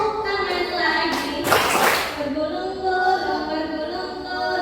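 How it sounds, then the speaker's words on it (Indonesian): Children clap their hands together during a group song activity at an orphanage, a short burst of claps rising briefly under ongoing singing voices. "tepuk tangan lagi"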